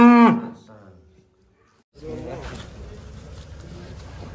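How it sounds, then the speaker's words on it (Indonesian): A cow gives a loud, close moo at the very start that fades quickly, then there is quiet followed by outdoor rustling and faint people talking. "Niki sapi nih."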